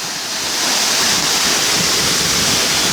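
Khao Krathing waterfall pouring steadily, a loud close broadband rush of falling water that stays constant throughout with no voices.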